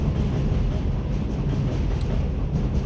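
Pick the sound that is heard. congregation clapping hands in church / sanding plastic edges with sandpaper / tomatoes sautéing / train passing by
train passing by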